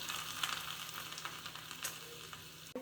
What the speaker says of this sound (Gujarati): આપણું લસણ પણ સરસ સતળાઈ ગયું છે